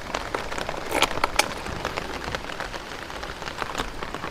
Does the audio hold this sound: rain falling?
yes